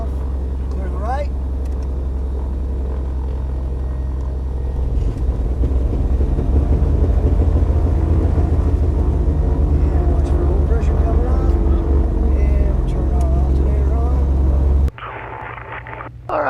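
A Beechcraft Baron twin-engine aircraft's right engine coughs into life and builds to a loud, steady, throbbing roar, then cuts off abruptly near the end.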